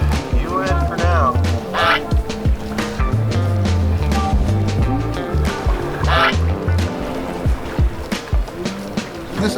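Geese honk repeatedly around a kayak out on the water, their calls mixing with paddle and water noise and low voices throughout.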